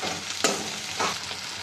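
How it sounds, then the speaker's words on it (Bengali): Onion fries in a pan for a Bengali dry lotte fish curry, a close, even sizzle with a couple of brief stirring scrapes over a short span. "পেঁয়াজটা ভাজা হতে থাক, তারপরে আমি রসুনগুলো দিয়ে দেবো একে একে"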